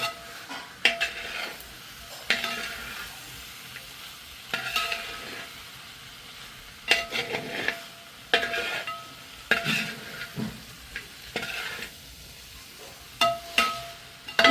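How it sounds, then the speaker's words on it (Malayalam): Chicken and masala being stirred in a pan for fried-chicken biryani, with a spoon scraping and clinking against the metal in irregular bursts over a soft sizzle, close up and with no talking. "ഇനി ഇത് നന്നായി ഒന്ന് ഇളക്കി യോജിപ്പിച്ച് കൊടുക്കണം."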